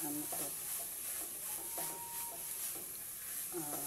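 Carrots and mixed vegetables sizzle in a pan, stirred with a few soft rhythmic scrapes over a steady quiet frying hiss.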